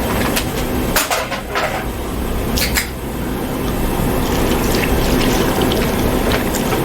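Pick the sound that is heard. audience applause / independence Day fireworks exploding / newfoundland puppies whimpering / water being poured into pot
water being poured into pot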